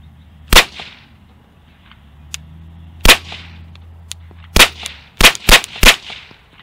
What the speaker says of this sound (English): We are still using right now 115 grain bulk ammo, supersonic rounds.